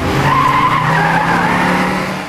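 A car skids away during a film escape: a loud tire squeal with engine roar, sustained for about two seconds and then fading slightly at the end.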